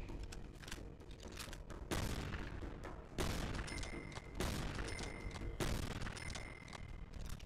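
Explosions in Cabela's Big Game Hunter 2012 on the Wii: a loud continuous roar of blasts with several sharp booming onsets in a row, with no voice over it.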